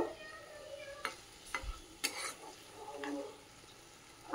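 Quiet sizzling from a pan of chicken cutlet mixture frying, broken by a few sharp scraping stirs of a utensil against the metal.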